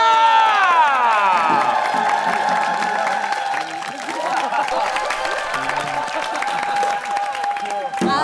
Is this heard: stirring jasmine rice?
no